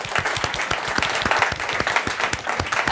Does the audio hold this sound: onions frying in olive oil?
no